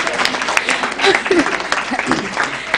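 An audience claps at a moot court competition event in Kenya, a scattered, moderately loud applause of irregular hand claps that rises and falls briefly, with a voice talking faintly underneath.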